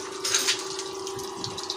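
Water runs out of a siphon hose in a steady, gentle stream, a close and fairly quiet trickling flow with a faint constant tone beneath it.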